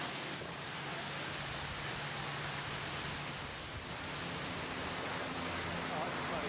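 A large waterfall close beside a vessel, a steady full-bodied roar of falling water that stays loud and unbroken throughout.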